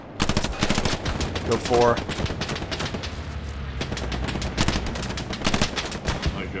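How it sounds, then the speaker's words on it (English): Rapid automatic gunfire from Hell Let Loose, a World War II shooter, crackles in dense close bursts with a few single shots, while someone speaks briefly over the shooting. "I hear you shooting him."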